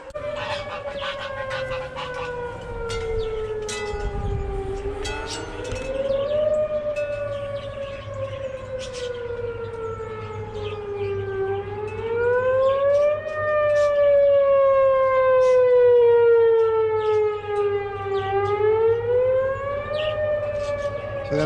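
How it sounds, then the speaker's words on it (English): Tornado warning sirens wail outdoors for the whole stretch, their pitch slowly rising and falling in long overlapping sweeps, steady and fairly loud with faint background noise beneath. "So that's what our tornado sirens sound like."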